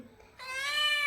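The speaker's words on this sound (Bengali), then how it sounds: "ম্যাও ম্যাও করে কে" A cat gives a single drawn-out meow, rising and loud and close, after a brief quiet lead-in.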